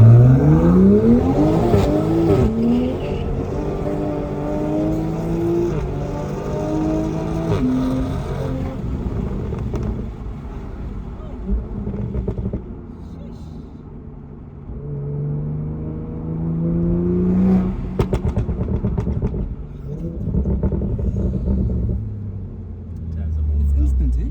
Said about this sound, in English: when you put it into sport, it activates, opens the flaps, changes gears and goes sharp